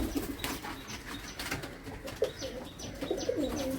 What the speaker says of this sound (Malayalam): ഇതാണ് പ്രാവ്